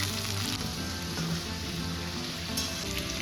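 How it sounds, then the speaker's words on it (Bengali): Potato and radish pieces frying in hot oil in a pan, giving a continuous, even sizzle and crackle for a few seconds, fairly quiet and with no voices over it. "এবার আলুটা একটু ভেজে নিয়ে তার মধ্যে দিয়ে দিচ্ছে মূলো।"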